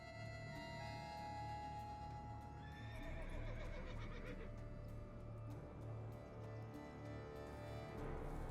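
A spectral Umbra wraith horse from The Witcher 3 neighs and whinnies loudly over steady game ambience, with hoof clip-clops mixed in and no talking.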